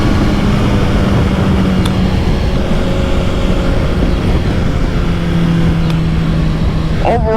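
A 2012 Honda CBR 1000RR motorcycle leans through a corner, its engine droning loud and steady under heavy wind noise, with a voice talking over it.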